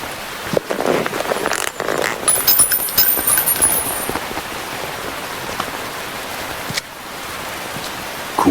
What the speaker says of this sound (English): You can entertain me until the rain stops.